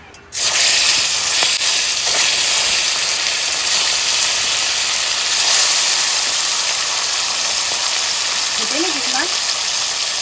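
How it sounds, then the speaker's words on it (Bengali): A large glass carp fish going into hot oil in a home kitchen, giving a loud, steady broadband sizzle that begins abruptly and holds without a break. "তেল গরম হয়ে গেছে এবার মাছটা দিয়ে দেবো"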